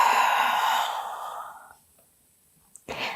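A woman exhales a long, steady breath during a mother-and-baby yoga session; the soft breathy rush fades away over about a second and a half, followed by a brief quiet breath near the end.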